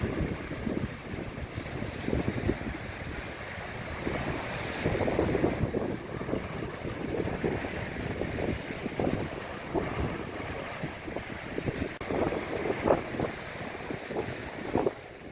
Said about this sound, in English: in between the sounds of a windy day off Lake Superior